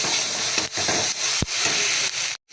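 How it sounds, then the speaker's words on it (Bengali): Whole garam masala spices sizzle in hot oil as a tempering for vegetarian dal, a continuous close crackling hiss broken by a few stirring clicks and scrapes before a sudden brief cutoff near the end. "এই মশলাটা সাঁতলিয়ে ডালটা ঢেলে দেবো"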